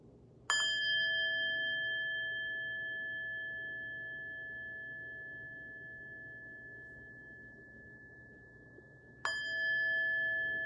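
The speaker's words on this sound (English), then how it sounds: "receiving the sounds of the bell as our practice comes to a close" Two strikes of a meditation bell, each ringing out into a long, slowly fading tone, separated by several seconds of near silence.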